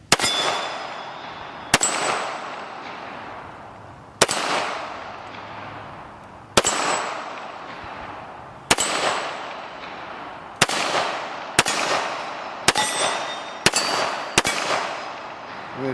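Shots from a Colt Gold Cup National Match pistol, nine sharp loud reports, each ringing out briefly, spaced unevenly at first and then coming faster toward the end, with no talking.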